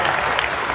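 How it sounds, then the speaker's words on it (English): Concert audience applauding at a tribute show at a fair, a dense burst of clapping and cheering, loud and close throughout. "Give yourselves a round of applause."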